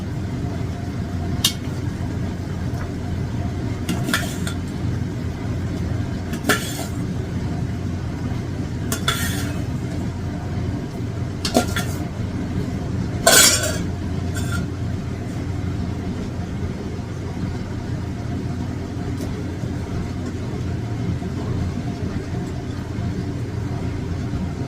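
Duck meat simmers and sizzles steadily in a pot, and previously fried potatoes are added. A continuous low bubbling runs throughout, broken by several sharp clinks and scrapes of a utensil against the pot.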